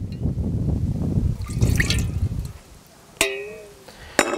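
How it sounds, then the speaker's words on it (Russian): Starch water is poured into a pan holding a little leftover meat juice while cooking Sichuan-style pork. A low, sloshing liquid rush runs for about two seconds, followed by a couple of sharp clinks and a brief ringing tone. "я вливаю воду с крахмалом."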